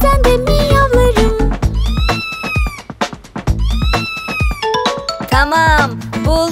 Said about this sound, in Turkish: Mırıl mırıl mırlarım, bazen de miyavlarım.